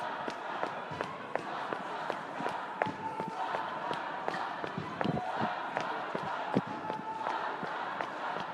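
Footsteps of a person running through a street protest crowd on Spring Street, a quick regular patter of sharp steps over a steady crowd roar with faint voices.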